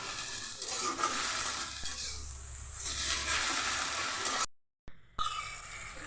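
Coriander leaves frying in a pan as their water cooks off, a steady soft sizzle and hiss with stirring scrapes, briefly cut to silence near the end before resuming.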